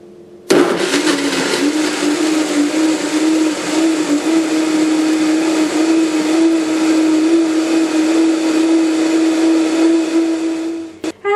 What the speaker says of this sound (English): Cover blender with lid and beat at high speed until all the ingredients are well blended